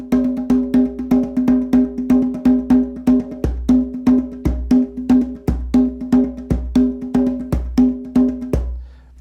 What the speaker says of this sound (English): it's called the mambo, by the way, and it's a classic